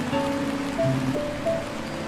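Steady rain falls in the video game Until Then, a soft continuous hiss of drops on surfaces with faint tonal music or ambience layered underneath, even and close throughout.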